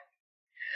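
A sneeze in a radio drama, set in a dusty attic: a short breathy intake, a pause, then a loud rising burst at the end.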